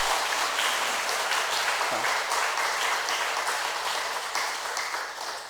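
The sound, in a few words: audience applause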